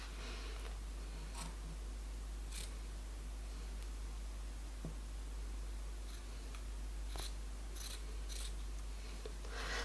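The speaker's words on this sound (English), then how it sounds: "So I'm just going to make the snip there" Scissors making a few short, crisp snips through a T-shirt, quiet and close, spaced irregularly over a low steady hum.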